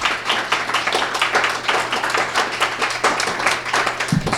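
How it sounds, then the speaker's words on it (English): An audience at a women's awards ceremony in Taos gives a big round of applause, loud close clapping with distinct individual claps in a lively, continuous burst, with a low hum underneath. "Let's give a big round of applause for Anita."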